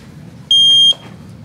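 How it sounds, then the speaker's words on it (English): A single loud, pure electronic buzzer tone sounds for about half a second in a quiet meeting room, cutting off sharply. "The buzzer went off."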